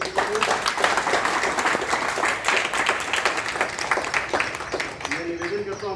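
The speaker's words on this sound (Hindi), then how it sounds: "एक जोरदार ताली हमारे गुप्ता अंकल जी को" Crowd applause at an International Yoga Day celebration honouring an elderly man, a dense burst of clapping from many hands close by, with voices talking over it.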